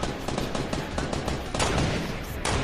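Rapid gunfire in a multiplayer shooter video game, bursts of shots fired at an enemy base, loud and close, crackling in quick successive volleys with a heavier barrage near the end.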